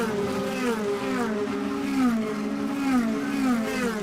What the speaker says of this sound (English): So as they roar through, the sound of these DTMs fantastic.